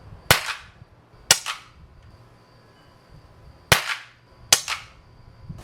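Four crisp air rifle shots from a Super Drifter fired at night into a cardboard-and-wood target, unsuppressed and then with a Buck Rail suppressor, alternating at an uneven pace, each a sharp snap with a brief decaying tail.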